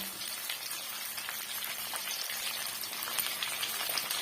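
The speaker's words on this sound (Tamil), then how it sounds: "இப்ப இந்த வெங்காயம் வெள்ளை பூண்டு நல்லா வதங்கட்டும்." Onion and crushed garlic frying in a pan, a steady close hiss and crackle of sizzling oil that holds on alone for the whole stretch.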